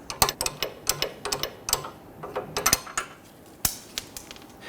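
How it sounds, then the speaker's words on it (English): A hand ratchet clicks in quick bursts while spinning the nut off the lower end of a front sway bar end link on a 2010-2019 Ford Taurus, sharp metallic ticks close up in an uneven rhythm. "And spin that nut off."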